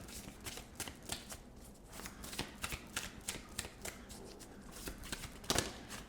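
Tarot cards are shuffled by hand close up, a quiet run of repeated riffling bursts and soft card flicks in an irregular rhythm.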